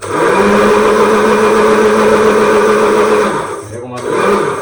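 A mixer grinder with a juicer jar whirs loudly as it grinds jamun fruit, a steady motor drone that dips briefly near the end before spinning up again, with a voice talking over it.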